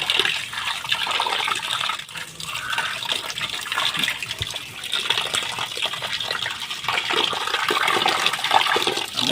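Steady running water pours and splashes while cut bhetki fish is washed, a continuous close rush that holds at an even level throughout.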